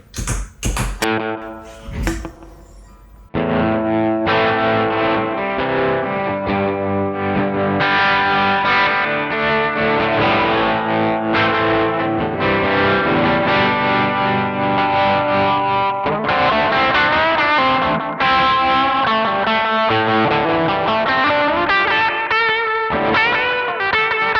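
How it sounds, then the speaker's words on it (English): Electric guitar through a Joyo American Sound pedal with slapback delay doubling each note, playing a long distorted melodic passage after a few brief opening plucks. "maybe put a slapback delay on"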